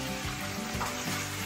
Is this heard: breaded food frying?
yes